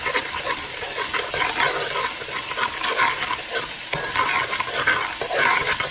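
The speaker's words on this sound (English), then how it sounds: "So put it on medium high. Go ahead and stir." Haitian épices spice blend is stirred in a pot over medium-high heat, making a loud, dense, continuous sizzle with scraping and shuffling from the spoon throughout, with no voices.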